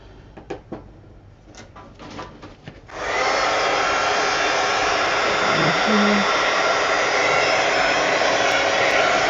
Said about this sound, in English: You can take your heat gun and help it along if you want to.